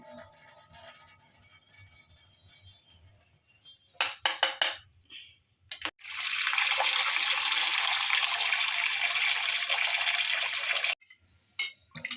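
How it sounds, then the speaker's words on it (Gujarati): Millet is rinsed a second time in a pot, first with quiet sloshing, then short splashes, then a long loud rush of poured water before a few final splashes; no one speaks. "હવે આપણે એને બીજો વાર ધોશું પાણીથી"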